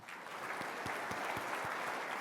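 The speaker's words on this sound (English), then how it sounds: "let's give Howard a round of applause" Soft, steady applause from a conference audience greets a volunteer joining the speaker onstage, distant and continuous throughout.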